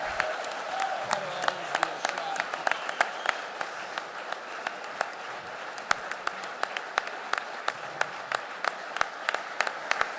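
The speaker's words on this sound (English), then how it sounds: "One more big round of applause for the head coach of Utah football, Morgan Scalley." A small audience claps for the head coach of Utah football at an introductory press conference, sharp scattered hand claps sounding nearby and continuing for several seconds rather than merging into a dense roar.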